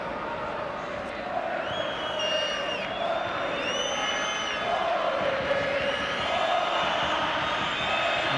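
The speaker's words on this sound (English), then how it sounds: "As you can hear, quite a sizable Barcelona contingent in the crowd here at the Ciutat de Valencia Stadium." Barcelona fans cheering in the crowd at the Ciutat de Valencia Stadium during a 2011-12 La Liga match against Levante, a sustained roar with whistles and rising chants throughout.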